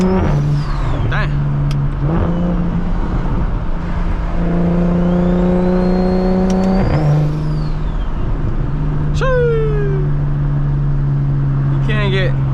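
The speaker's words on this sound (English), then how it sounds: "the single turbo sounds do not get old" A 600 hp single-turbo BMW 335is on a late-night drive, its engine loudly droning and rising through gears with sharp shifts and whooshing turbo sounds, heard close from inside the cabin.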